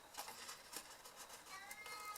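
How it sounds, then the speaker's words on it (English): A cat meows indoors in a few short, faint, repeated calls over a quiet room background while a box is being put together. "I can hear my cat shouting"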